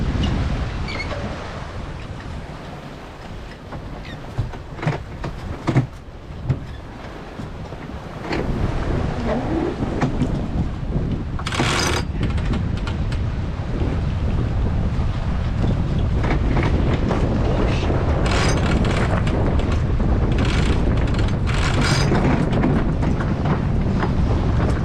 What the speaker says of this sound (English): That's a bit of wind.